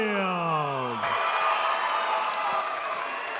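Home crowd at a Shamrock FC MMA event cheering for a Florida fighter, a broad arena roar rising after an announcer's voice fades, steady and fairly distant under commentary.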